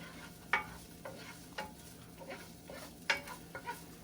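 Onions and meat cook in a pan with a quiet sizzle, punctuated by about half a dozen distinct scraping stirs spaced irregularly.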